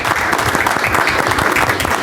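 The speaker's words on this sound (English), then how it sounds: "Carol, I think we ought to give her a little round of applause." A task force meeting audience gives a brief, loud round of applause for Carol Wells, dense continuous clapping from a room of people filling the whole moment.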